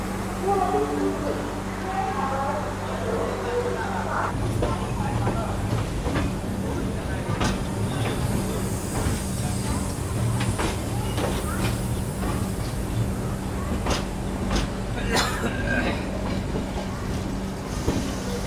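The 22612 New Jalpaiguri–MGR Chennai Central SF Express rolls along after leaving Khurda Road Junction, a steady rumble with rhythmic clickety-clack of wheels on rail joints, heard from inside the coach as someone talks over it.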